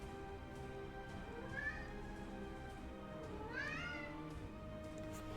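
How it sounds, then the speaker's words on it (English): A cat meows twice in a room during a livestream. The cries are rising and fairly faint, heard over a constant background hum. "Why are you crying, kitty?"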